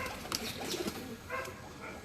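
Royal Teddy pigeons coo softly at a rooftop loft, a few low murmuring coos close by over faint background chatter.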